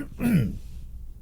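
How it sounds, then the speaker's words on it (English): One person clears their throat, a short rough gravelly rasp that is loud and close, followed by quiet breathing. "if I can eventually clear my throat."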